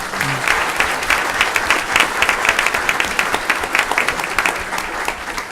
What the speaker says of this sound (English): let's give one more round of applause for Isabella Jackson.